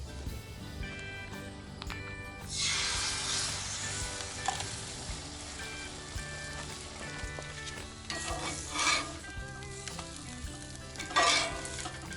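Scrambled eggs, three of them, sizzle in a cast iron pan for street tacos, a steady crackling fry broken by scraping and stirring strokes of a utensil against the pan, close and fairly quiet.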